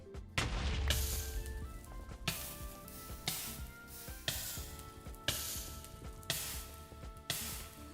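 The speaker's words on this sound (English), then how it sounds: "the fire noise is super annoying" Fire in the Minecraft Cobbleverse modpack crackles in repeated bursts about once a second, each a sharp hissing crackle that fades quickly, with no one talking.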